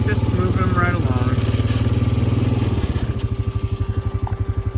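A four-wheeler engine chugs steadily close by on a ranch while cattle are trailed with a border collie, a loud continuous putter whose pulse slows and roughens near the end as a voice speaks over it.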